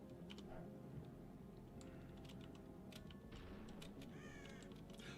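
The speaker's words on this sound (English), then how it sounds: "Why are the crows down in hell?" Crows cawing in a video game set in hell, with several short caws scattered over a dense, steady background of game noise, fairly faint and with no talk.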